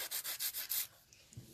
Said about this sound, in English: The best drill in the universe.